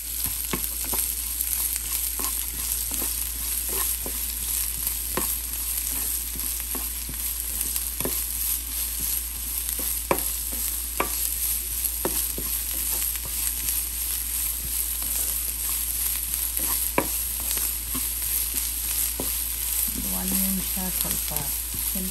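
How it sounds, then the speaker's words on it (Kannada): Onions frying in a pan for rava paniyaram, with a steady close sizzle and occasional stirring clicks throughout. "ಸ್ವಲ್ಪ ಈರುಳ್ಳಿ ಹಾಕ್ತಾ ಇದ್ದೀನಿ."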